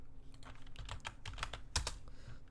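Computer keyboard keys pressed while saving and running Python code, a run of quiet, close clicks in an uneven typing rhythm with one sharper tap near the end.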